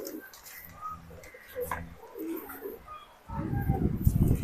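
Soft cooing of racing homing pigeons in a loft, low and repeated, with a brief voice at one point and a louder burst of noise near the end.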